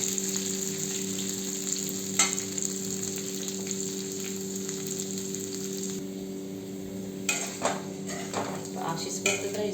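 Sliced okra (bhindi) with tamarind sizzling steadily in a pan for masala bhendi, with a constant frying hiss, a low steady hum underneath and a few scraping stirs later on.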